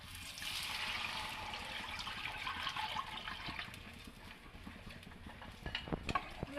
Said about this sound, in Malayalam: അതിലേക്ക് കഞ്ഞിയുടെ വെള്ളം ഒഴിക്കുക.